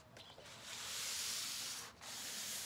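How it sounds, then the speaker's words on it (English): Steady soft rubbing of a sanding block spreading oil over a refrigerator's painted surface, a continuous gentle scrubbing hiss with one brief pause near the end. "I'm just going to rub it over the surface"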